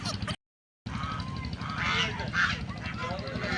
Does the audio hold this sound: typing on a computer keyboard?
no